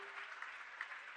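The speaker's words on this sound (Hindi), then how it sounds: "एक बार जोरदार ताली पूरी टीम के लिए।" A crowd claps steadily for a team at a Jain community pathshala gathering, a dense, even patter of many hands held at a constant level for the whole moment, with no voices over it.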